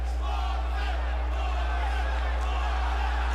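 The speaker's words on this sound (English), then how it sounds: "You heard the crowd support for Lopez as they were introduced" Boxing arena crowd roars continuously for Puerto Rican fighter Lopez during ring introductions, a dense steady wall of cheering and babble with a strong low hum underneath throughout.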